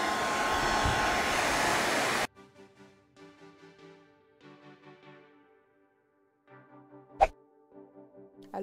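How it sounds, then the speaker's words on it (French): A hair dryer blows loud and steady for about two seconds, then cuts off, leaving quiet music and a faint thump. "vous avez juste à mettre votre sèche-cheveux dans le trou. Et voilà. Et ensuite, vous mettez en marche"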